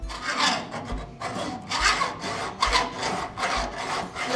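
A hacksaw rasps through metal on a 1940s-style hot rod build, about five rough back-and-forth strokes in a steady rhythm, close and moderately loud with no voices.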